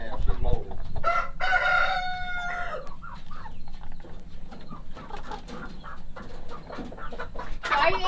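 Chickens in a backyard flock cluck and murmur near the listener, including a buff Orpington hen. A Phoenix rooster crows loudly at the start, and short calls and rustling continue after it.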